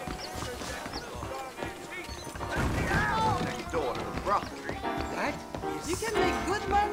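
A horse in Red Dead Redemption on PS5, hooves clip-clopping with snorts and a whinny amid game sounds, while someone talks over it throughout.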